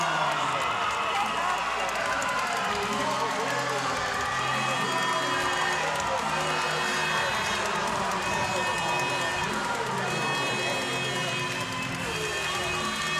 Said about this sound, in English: Listen to this crowd inside the Box Sports Hall for Hungary.